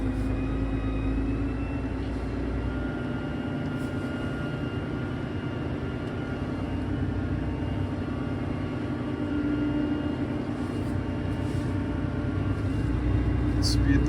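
A Fendt 1167 Vario tractor's engine drones steadily while the machine drives forward, a continuous low rumble held at an even level throughout, with voices talking over it.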